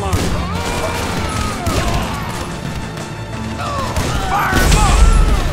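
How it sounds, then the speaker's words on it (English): Gunfire and explosions in a GTA V mission, dense crackling shots and crashes with a deep boom near the end, mixed with shouting voices. "Hit him with them grenades, homie!"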